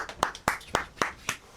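A short round of applause, about five distinct, evenly spaced hand claps, close and fairly crisp, without talk.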